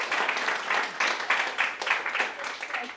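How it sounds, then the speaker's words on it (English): Brief round of clapping from a small gathering after a talk on traditional agroecology in Kona, uneven and moderately close, lasting a few seconds. "let's give him another round of applause"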